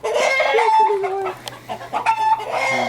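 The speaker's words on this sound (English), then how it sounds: "Stop it, chicken." A chicken being caught clucks and squawks loudly and almost without pause, with agitated calls rising and falling throughout.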